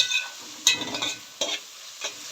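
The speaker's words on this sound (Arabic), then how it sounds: "نحمر ندي البصله كده تشويحه، مش هنحمرها" Chopped onion being sautéed and stirred in a pan for an Egyptian spinach dish, a steady close sizzle broken by a few sharp scraping strokes of the spoon, with no talking.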